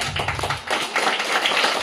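A group of children clapping their hands during a classroom running game, a close patter of overlapping claps that starts thick and lightens toward the end, with no voices.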